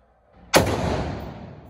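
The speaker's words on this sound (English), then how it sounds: "Now shoot it." One sharp, loud gunshot cracks at a shooting range after a faint lead-in, its echo ringing out and decaying slowly across the rest of the moment.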